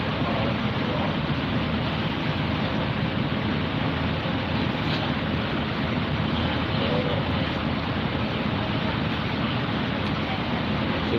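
A steady, continuous airplane engine drone as the aircraft lands at Caticlan airport on the way to Boracay Island, holding a constant level throughout.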